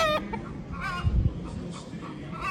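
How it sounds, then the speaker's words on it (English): A chicken clucks on a goat farm outdoors, a few short nearby clucks over a soft background of other fowl and farm noise. "Look at this chicken, Finny."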